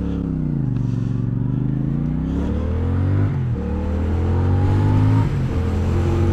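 A CF Moto 450CL-C motorcycle engine pulls hard up through the gears, its loud, close drone rising in pitch, dropping briefly at each shift and climbing again, continuous throughout.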